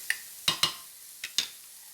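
Garlic dropped into a hot pan for an Asian sloppy joe filling, giving a few short bursts of sizzling and stirring, with quiet gaps between them.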